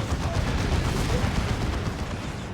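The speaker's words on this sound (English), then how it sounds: "Taking las cannon shots though." Lascannon fire in Warhammer 40,000: Dawn of War 2 during a 3v3 battle: dense, loud, rapid blasts and explosions run together without pause.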